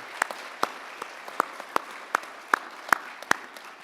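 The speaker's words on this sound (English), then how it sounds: "One more round of applause for our program director and our faculty." Applause from the audience at a respiratory therapy pinning ceremony, a small group clapping in a loose, steady rhythm of distinct sharp claps, moderately near.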